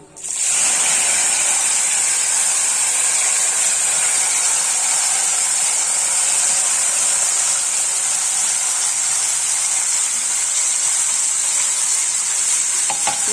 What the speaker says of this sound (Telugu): ఇప్పుడు ఈ చింత చిగురును ఈ ఆయిల్లో వేసుకున్నాం